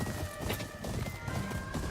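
In the video game Ghost of Yotei, horse hooves clip-clop in a quick run of steps, heard under a layer of game ambience with faint tonal music.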